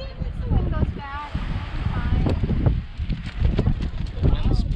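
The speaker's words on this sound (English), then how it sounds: "The wind's blowing." Gusty wind on a beach buffets the microphone in loud, rough, uneven bursts, while people talk nearby and the surroundings rustle.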